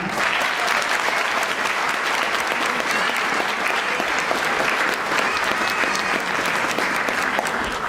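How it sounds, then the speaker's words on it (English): Sustained, dense applause from a graduation ceremony audience at a middle college, loud and even throughout without pause, a large crowd clapping continuously. "Please join me in a round of applause for Dr. Peggy Corrales"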